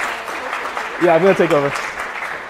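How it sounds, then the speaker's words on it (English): Applause from a conference audience, a broadband wash that fills the clip, while someone talks over it near the end. "I want to have a round of applause for her."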